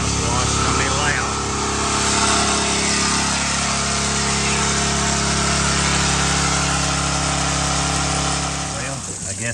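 A failing AAA 4 gpm pressure washer pump runs loud during a house wash, a harsh continuous mechanical whine and drone with rough, wavering overtones that holds steady for the whole stretch before dipping at the end.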